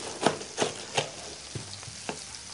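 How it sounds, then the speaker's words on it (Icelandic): Veal schnitzel frying in a pan, a steady sizzle with several soft knocks and scrapes of handling spaced through it, close and without talk. "Á meðan kjötið er að steikjast"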